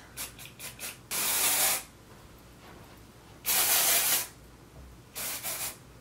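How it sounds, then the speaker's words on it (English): Three bursts of texturizing hair spray hiss up close, each lasting about half a second to a second, separated by quiet gaps and light rattling. "It's just a texturizing spray."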